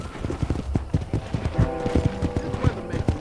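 Hooves clip-clop in a steady walking rhythm from a horse on a ranch in Red Dead Redemption, close and clear over soft ambient game sound, with no talking.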